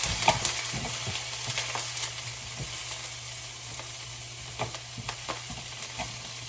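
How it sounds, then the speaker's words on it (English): Steady frying sizzle crackles as sweet potato hash cooks in a hot pan on a gas stove, with occasional scrapes and stirring clicks over a constant low hum, close and fairly loud, no voices. "making sweet potato hash on gas."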